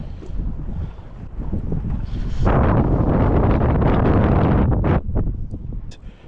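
Wind on a fishing boat in choppy water, loud gusty roaring and buffeting against the microphone that strengthens midway, then dips and returns in bursts.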